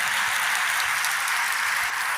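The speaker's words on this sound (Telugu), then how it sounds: "చప్పట్లు కొడుతున్నారు," Church congregation clapping in a dense, steady roar of many hands at a Telugu Christian gathering, loud and continuous with no pauses.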